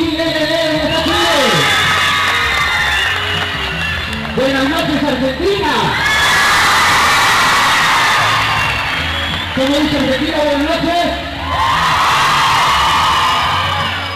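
Large audience at a volleyball event cheering, whooping and applauding in loud swelling bursts as an announcer greets them over a PA, with the crowd roaring back between his lines.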